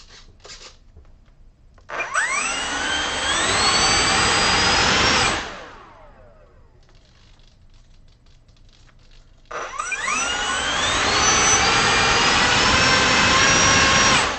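A small RC jet plane engine spools up to a loud, steady full-throttle roar for a few seconds, winds down into quiet, then surges back up and holds, nearby and alone.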